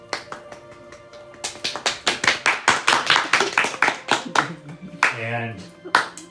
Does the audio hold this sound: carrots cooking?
no